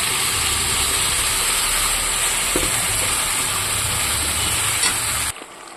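A ground spice paste with turmeric, chili powder, salt and sugar fries in hot oil, sizzling loudly and continuously with occasional stirring scrapes, close up, before cutting off abruptly near the end.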